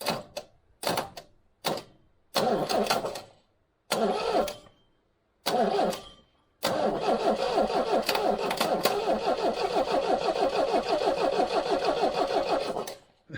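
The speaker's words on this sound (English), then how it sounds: "Starter motor has actually started behaving itself." Starter motor on a 1969 MGB cranks the engine in a string of short bursts with pauses between, then one long continuous crank, a rapid rhythmic churning close by with no voices.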